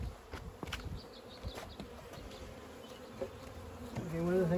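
Honeybees buzz steadily during a backyard hive inspection in May, a dense close hum lasting throughout with brief louder swells as bees fly near, and a slight rise in intensity toward the end.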